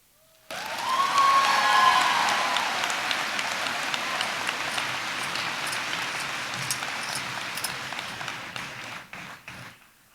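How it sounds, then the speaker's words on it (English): Audience applause rises at a 2019 high school graduation ceremony, a broad wash of clapping that swells quickly, holds steadily, then tapers and cuts off near the end. "we ask that you be respectful with your applause"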